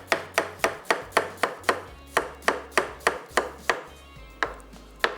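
A knife slicing onions for Lebanese hashweh rice, a steady rhythm of crisp chopping strikes on a board, about fourteen cuts in quick regular succession, close and clear.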